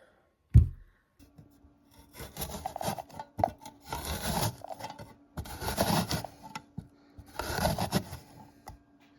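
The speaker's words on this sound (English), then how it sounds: "So the first thing I'm going to do is grate this big baby." A large zucchini is rubbed against a kitchen grater in rhythmic scraping strokes, repeating in close, loud bursts with brief pauses and no talking.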